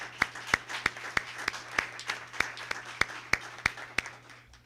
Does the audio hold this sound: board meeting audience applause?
yes